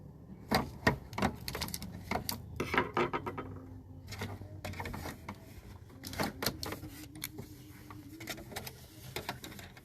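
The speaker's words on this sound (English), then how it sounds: "we're going to do the decorative stitch on our white piece of fabric" A sewing machine runs a decorative stitch on white fabric, its needle clattering in rapid, close, busy bursts with brief pauses, loud and steady without speech.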